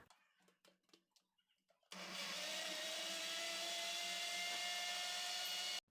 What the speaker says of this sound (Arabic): وغادي نخلط الكل في الخلاط الكهربائي من غير الفينو والخمارات